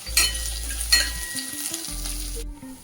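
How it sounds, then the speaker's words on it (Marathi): Peanuts and chopped green chilies sizzle and fry in a pan for Maharashtrian vermicelli upma, with two bursts of stirring clatter over steady hissing oil, close and fairly loud, no talk. "शेंगादाणे टाकून परतून घेऊया"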